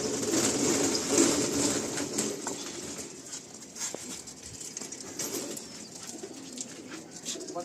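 Pigeons set loose from a prize-winning club loft at Baghajatin, with cooing and the flutter of many wings continuing steadily at close range over outdoor background noise.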